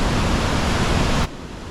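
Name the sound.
waterfall flowing with snow melt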